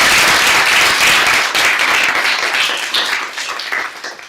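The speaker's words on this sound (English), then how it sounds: "if we could give them a round of applause" A large audience at a law school moot court competition claps loudly in thanks for family and friends, dense applause that starts full and gradually thins and fades over a few seconds.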